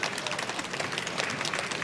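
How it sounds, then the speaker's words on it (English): A conference audience breaks into applause, dense overlapping clapping from a crowd in a hall, steady and fairly loud across the brief moment. "Big round of applause."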